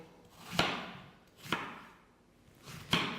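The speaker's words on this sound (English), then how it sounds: "So just roughly sliced all the way around the core" A knife cuts through a peeled Bramley apple on a board, slicing around the core in three separate crisp strokes spaced about a second apart, each a short sharp crunch fading into quiet.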